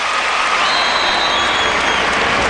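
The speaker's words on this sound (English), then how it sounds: "Auburn people are cheering right now," A college basketball crowd in an arena, Auburn fans during a men's game against Vanderbilt, gives a dense, sustained roar of applause and cheering at an even level.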